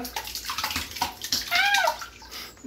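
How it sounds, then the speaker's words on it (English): A small amount of water is strained off from a bowl while making homemade yogurt, a steady close splashing trickle with a brief gurgle midway. "I'm gonna strain that little bit of water that was in my bowl now off."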